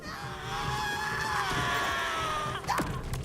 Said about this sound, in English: Oh, the screams of joy.